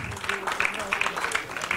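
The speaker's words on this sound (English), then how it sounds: "give a huge applause for Mr. Producer, the producer Salman Khan" Audience clapping for producer Salman Khan at the launch of the film Hero's trailer, a brief burst of many hands beneath a voice on a microphone.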